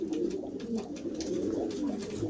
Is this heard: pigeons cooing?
yes